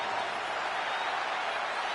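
A wrestling arena crowd in the WWE 2K25 video game roars with steady cheering and applause, a dense, even wash of crowd noise at moderate level that holds unbroken from start to finish without a clear voice on top.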